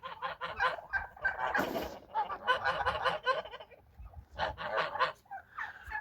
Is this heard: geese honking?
yes